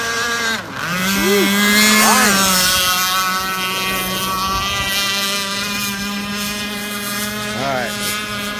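A nitro-powered RC hydroplane boat races across the water, its small engine screaming at high revs with pitch rising and falling as the throttle changes, loud and steady throughout.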